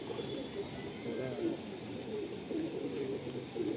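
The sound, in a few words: Madrasi pigeons cooing in a loft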